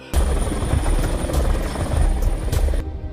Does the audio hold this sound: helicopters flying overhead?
yes